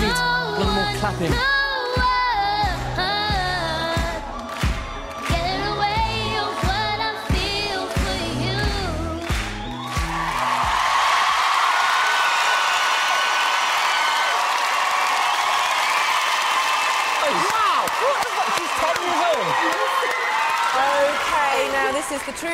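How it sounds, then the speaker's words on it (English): Audience clapping at a Britain's Got Talent 2009 performance, a dense loud sustained wash of applause and cheering that follows a singer with music, continuing steadily to the end. "A little more clapping"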